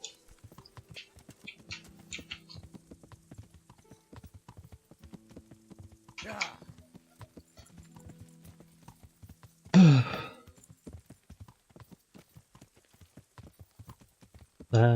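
Horse hooves clip-clopping at a steady walking rhythm in the medieval video game Kingdom Come: Deliverance, close and crisp, with a couple of loud whinnies or snorts breaking in and someone briefly speaking.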